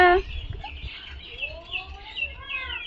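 Pet parrot making short whistling calls and squawks, a sharp cry at the start followed by rising and sliding whistles, close by, over low background murmurs.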